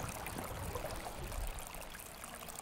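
Water runs along an irrigation ditch in a quiet, continuous babbling trickle, soft and close, with no voices.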